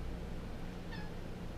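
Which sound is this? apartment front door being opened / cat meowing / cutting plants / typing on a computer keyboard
cat meowing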